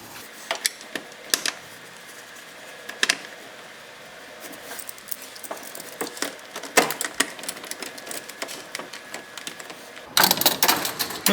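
A screwdriver turning metal screws into a plastic air filter housing on a 2014-2018 GMC Sierra, giving scattered close clicks and ratcheting ticks, with a denser burst of clatter at the end.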